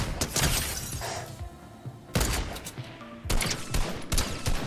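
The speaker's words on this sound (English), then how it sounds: "shooting that AR is such an OG moment" Assault rifle fire in Fortnite, the AR cracking in loud bursts of rapid shots separated by short gaps, with impact and shatter-like noise layered over a busy game mix.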